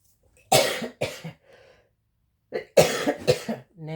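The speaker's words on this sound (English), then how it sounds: "I want to have a coughing attack." Coughing fit of several harsh, loud coughs close up, a pair of bursts, a pause, then another cluster followed by a wheezy breath, with no talking.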